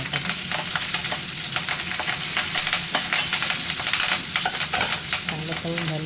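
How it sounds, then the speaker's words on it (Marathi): Cut green chillies frying in oil in a kadai for makhana chivda crackle and spit loudly and densely, with sharp pops over a continuous close sizzle and no talk. "मिरच्या तळून घ्यायच्या आहे मस्त चिवड्यामध्ये टाकण्यासाठी"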